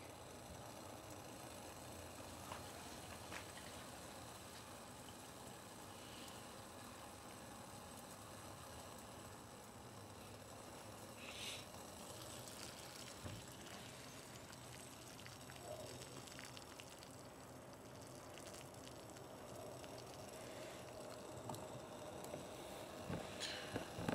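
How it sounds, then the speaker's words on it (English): A pot of water sits at a rolling boil on an adjustable-flame alcohol stove, giving off a faint, steady roar and bubbling hiss that continues evenly throughout with a few small pops. "Turn back on high. It keeps it at a rolling boil."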